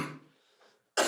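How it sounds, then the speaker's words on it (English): A man coughs in a studio during a show recording, with a rough burst at the start and another sharp, loud cough after a brief pause. "We're going to have to edit out all my coughing."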